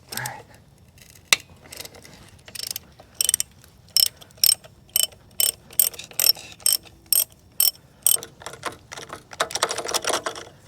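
A ratchet wrench works loose a corroded nut on a Kawasaki H1 500 Mach III motorcycle that sat for 42 years, giving steady bursts of sharp, close metallic clicking in an even rhythm, with quieter handling sounds between strokes.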